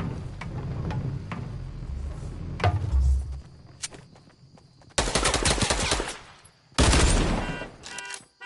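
Dual pistols fire in a video game: a few spaced single shots at first, then two dense bursts of rapid gunfire, loud and close, over a steady background of game noise.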